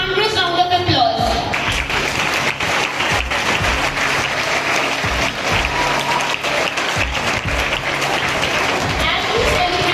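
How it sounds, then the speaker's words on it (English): Loud, dense applause from a crowd at a school Independence Day tribute to soldiers, sustained throughout with crowd noise and a voice mixed in beneath the clapping. "Let us greet them with a thunderous round of applause"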